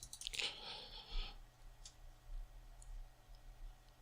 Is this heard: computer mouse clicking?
yes